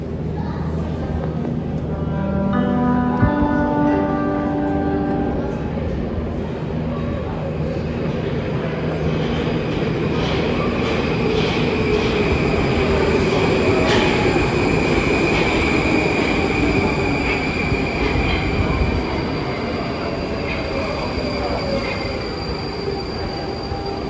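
A Moscow Metro subway train rides between stations with a loud, close rumble of wheels and car body, rising squealing tones from the wheels, and a constant roar throughout.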